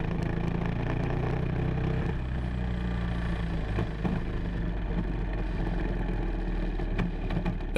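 A go-kart engine that won't respond to throttle drones steadily at a low, unchanging pitch, a flat muffled running note with no revving or surge, heard close and continuous.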